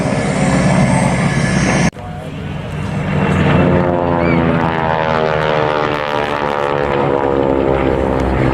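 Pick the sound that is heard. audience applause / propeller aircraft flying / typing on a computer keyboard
propeller aircraft flying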